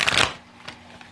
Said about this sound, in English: I did a lot of pre-game shuffling. So I'm just going to do a couple more.